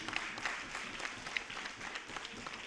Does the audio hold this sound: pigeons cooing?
no